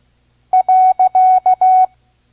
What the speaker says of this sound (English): Period. Doesn't that sound final?